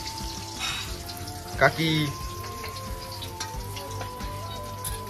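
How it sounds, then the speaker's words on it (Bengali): Fish frying in a pan in a home kitchen gives a steady, moderate sizzle, with a brief voice, a short clatter and faint tones over it. "মাছ ভাজা হচ্ছে"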